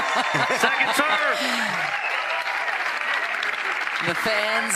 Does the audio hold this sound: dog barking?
no